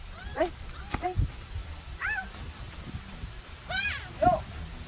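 A cat meows several times in short, rising and falling cries spread across a few seconds, fairly close, over low background noise.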